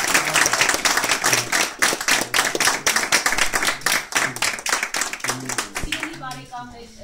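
An audience claps in steady, dense applause that carries on loud for several seconds at a commemorative gathering, with a voice speaking through it and the clapping thinning toward the end.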